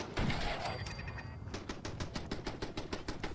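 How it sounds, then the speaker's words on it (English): A machine gun turret in Fallout 4 fires a rapid, evenly spaced burst of sharp shots, preceded by a brief noisy clatter and a thin electronic tone, at moderate loudness. "Machine gun turret."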